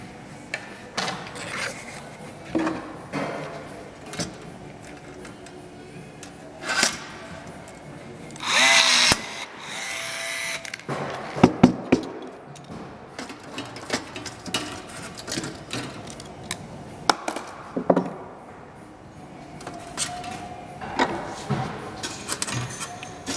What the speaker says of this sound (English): we're now riveting on the ribs to the spar.